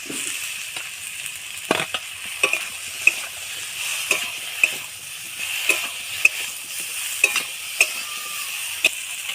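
Cauliflower florets frying in a pan, with a soft sizzle under repeated sharp stirring clicks and scrapes of a utensil, close and fairly loud, no talking.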